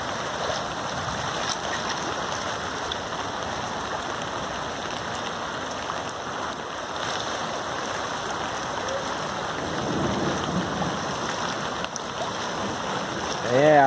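Water rushes continuously through the Canal do Crato at night during heavy rain in the hills, a steady broad wash with faint voices in the background.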